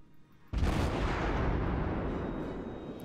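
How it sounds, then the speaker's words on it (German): A heavy naval gun fires a single deep boom in World of Warships gameplay, followed by a long rumbling roar that slowly fades, after a short quiet lead-in. "da kommen schon die ersten Schüsse jetzt"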